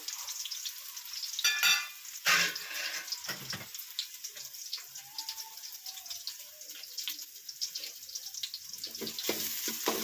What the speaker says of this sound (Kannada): ಇವಾಗ ಇದಕ್ಕೆ ಈರುಳ್ಳಿ ಹಾಕೋತೀನಿ ಎಣ್ಣೆ ಕಾದಿದೆ ಎಣ್ಣೆ ಚೆನ್ನಾಗಿ ಫ್ರೈ ಹಾಕಬೇಕು